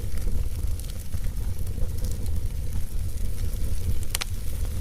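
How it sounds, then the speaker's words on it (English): Steady low crackle and rumble of a fire burning, with a few sharper pops near the end; no voices. "Fireplace."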